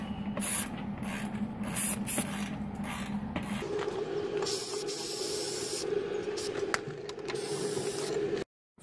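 Spray paint hisses onto a rusted iron railing on concrete stairs in short and longer bursts, close and fairly loud, with a rattling can and mechanical clicks between sprays before it stops abruptly.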